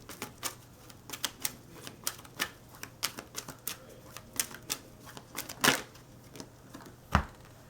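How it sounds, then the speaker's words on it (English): Quick, light card clicks and snaps come in irregular bursts, with a couple of sharper flicks standing out, close and fairly quiet. "I'm going to shuffle one card"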